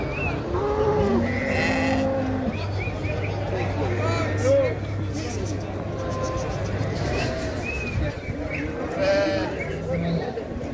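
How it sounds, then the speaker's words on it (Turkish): Yearling male sheep bleat at a busy small-livestock market, several calls near and far overlapping a steady low hum, with people talking throughout. "Erkek toklu."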